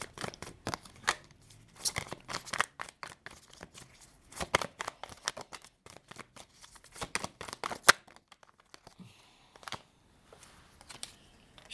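Tarot cards being shuffled and drawn, a quick irregular run of crisp riffling snaps and flicks, close and quiet, with no talking.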